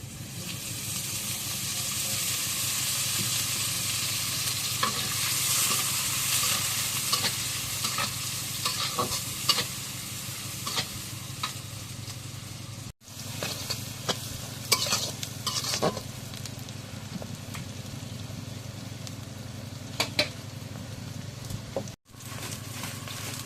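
Loud, continuous sizzling of meat frying in hot oil in a wok, with frequent stirring and scraping sounds throughout, close up.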